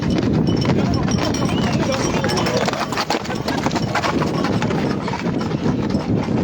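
Horse hooves clip-clop at an outdoor equestrian event in Saint Bauzély, a busy rapid patter under steady loud talking and background crowd noise.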